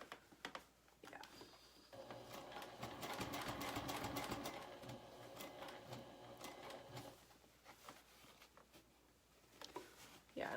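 A semi-industrial sewing machine runs in a steady rapid whir for several seconds while stitching a zipper pouch, with softer starts and stops around it and a person talking nearby.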